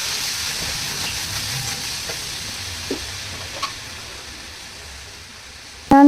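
Sprouted horse gram tipped into a hot oil tempering and stirred, giving a steady soft sizzle with a few light spoon clicks, ending in a sudden louder clatter near the close.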